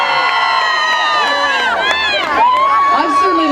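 An outdoor rally crowd cheering and shouting, with many overlapping voices whooping and calling out loudly and continuously.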